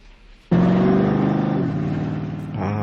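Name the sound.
Bigfoot monster truck arriving, engine revving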